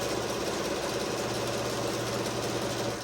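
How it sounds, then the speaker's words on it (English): A sewing machine stitching a fabric apron, a steady rapid mechanical whirr and needle chatter, close and continuous for the whole stretch. "I'm only gonna sew to that mark"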